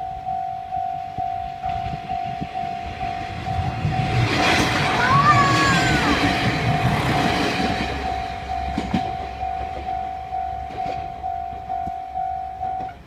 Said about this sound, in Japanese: でも電車後ろから来たよ。